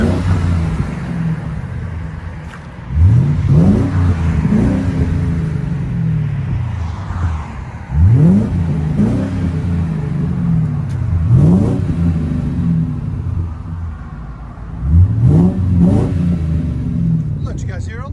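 A Ford Crown Victoria Touring Edition engine with dual exhaust revs repeatedly, each rising roar falling back to a deep, rumbling idle, close and loud, four revs in a row.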